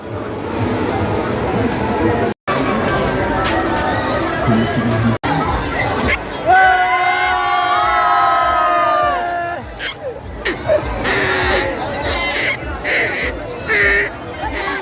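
Dense crowd chatter and hubbub at the Mhasa Jatra village festival fair in Murbad, Maharashtra, a continuous loud babble with some raised voices and brief tonal fairground sounds in the middle.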